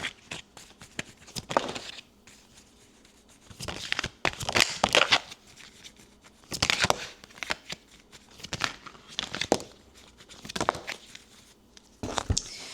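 Tarot-style cards from an unreleased test deck being shuffled in repeated crisp bursts, each a quick riffling flutter with short quiet gaps between, close and moderately loud.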